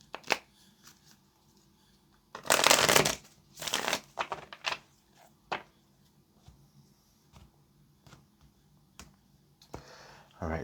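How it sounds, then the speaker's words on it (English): Tarot cards being shuffled, a few short crisp riffling bursts with quiet pauses between them and scattered light taps and card handling, close up in a quiet room. "let's get this last shuffle"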